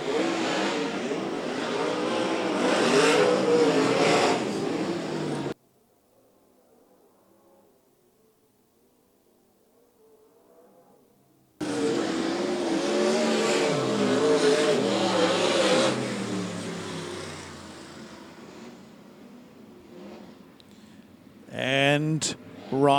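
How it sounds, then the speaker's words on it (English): Pro sprint cars roar around a dirt track in a feature race, loud engine drone rising and falling with revving and passing cars, under continuous race commentary, with a brief quiet gap before the pack returns. "this is the biggest field of pro sprint cars"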